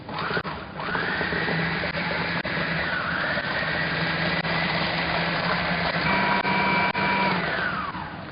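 An electric hand mixer whirs steadily while beating four eggs into a New York style cheesecake batter, a loud continuous motor drone with a slight pitch shift partway through, running alone without talk.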